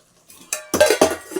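A metal spoon clinks and scrapes against a pot as boiled chicken with salt and turmeric is stirred for a cucumber chicken curry, several short, close clanks in quick succession.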